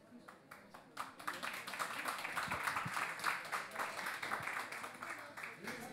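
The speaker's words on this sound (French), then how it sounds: "Je vous remercie de m'applaudir avant que j'ai dit quoi que ce soit" An audience at the SMEP 2016 youth prize ceremony claps steadily for several seconds, a soft, dense patter of many hands heard from a distance at low volume.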